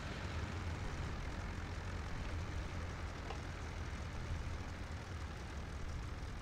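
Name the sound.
aircraft landing in IL-2 Sturmovik video game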